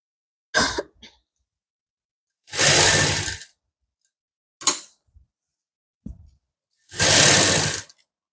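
A sewing machine stitches elastic onto a plazo in two bursts of close whirring, each under a second long, separated by short clicks and handling knocks.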